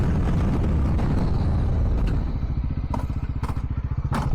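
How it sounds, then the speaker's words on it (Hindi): A motorcycle ridden during wheelie practice downshifts roughly, its engine note dropping into a rapid, loping throb with a few sharp clunks from the gearbox; close and steady, no talking. "कितना गंदा गियर डाउन हो रहा भाई, खटर।"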